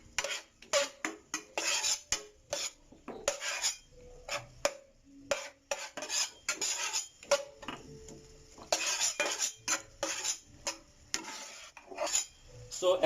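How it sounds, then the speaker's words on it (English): Tomatoes are pressed and stirred in a frying pan, a spatula scraping and clinking against the pan in irregular close bursts with faint sizzling between strokes. "you might need to press some of it to let the juice of the tomato flow out"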